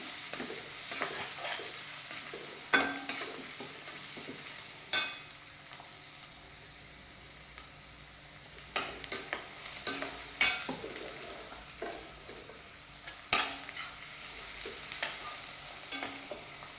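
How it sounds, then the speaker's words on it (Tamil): Sliced onions sautéing in a pan, a soft steady sizzle with periodic louder scrapes and clatters of stirring breaking through every few seconds, no talking. "ஆனியன் நல்லா வதங்கிட்டோம்."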